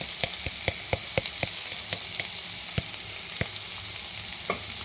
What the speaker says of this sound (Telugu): అల్లం వెల్లుల్లి పేస్ట్ వేసి కలపాలి.